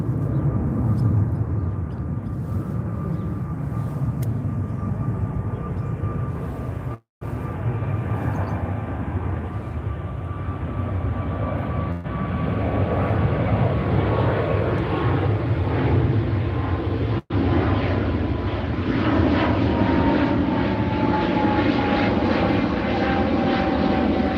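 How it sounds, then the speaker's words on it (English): A propeller airplane passes overhead with a steady droning engine roar, loud and continuous, growing broader and brighter toward the end as it comes closer, broken by a couple of brief dropouts. "I'm gonna let the plane pass."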